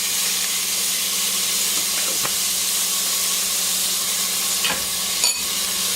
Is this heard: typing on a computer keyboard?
no